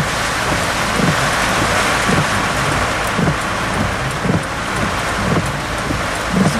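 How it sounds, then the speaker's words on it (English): Heavy rain pours steadily and loudly against a surface, with low rumbling and gusty wind underneath, suggesting thunder during a Florida storm. "Should hear the thunder"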